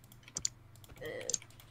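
A few quick, light computer keyboard keystrokes in two brief bursts, fairly close and mildly loud over a low steady hum.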